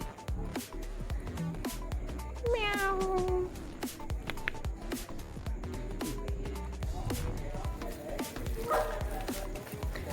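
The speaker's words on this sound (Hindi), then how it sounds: "ये रही बिल्ली, कैसी कूदने के लिए तैयार है" A house cat meows twice, once drawn out and once shorter later on, over constant background clatter and scattered clicks, with faint voices in the background.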